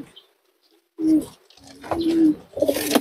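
Racing pigeons in a loft give soft, low throaty coos, several close rounded calls that swell and fade one after another, with faint rustling and a brighter burst at the end.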